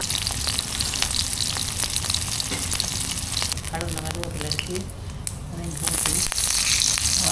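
Loud, steady sizzling of salted dried fish frying in hot oil, with crackling spatter throughout and a short dip in intensity before it swells again.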